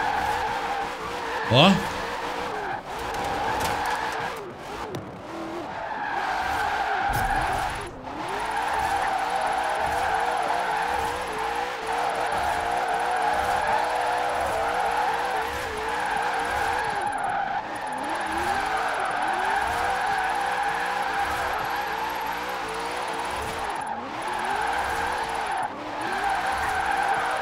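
A Ford Mustang drift car in Forza Horizon 4 slides through a drift zone, its engine droning over long, sustained tire squeals and skids, with a man chattering excitedly over the game sounds.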